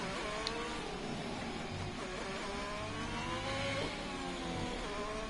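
A McLaren race car's engine drones steadily at close range throughout, its pitch sweeping in repeated rising harmonic bands as it revs through gears, with dense track noise underneath and no talk.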